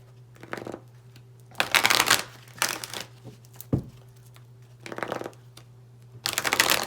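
Tarot cards being shuffled by hand in several separate bursts of riffling and crinkling, each a second or so long, separated by short quiet pauses under a steady low hum.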